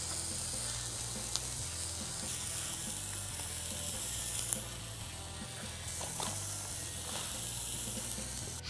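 Pork tenderloin sears in a hot pan, giving a steady, close sizzle and hiss that runs unbroken with a few faint pops and scrapes, no talking over it.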